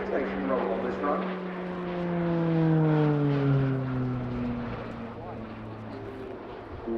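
Slovenian Pilatus PC-9M Hudournik single-engine turboprop flying an aerobatic display at an airshow, its propeller drone loud and sweeping in pitch as it passes, swelling at mid-pass then easing, with a commentator talking over it.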